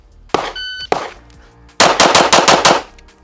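Pistol shots at a shooting range crack out loud and close: two single shots, then a rapid string of about seven in quick succession.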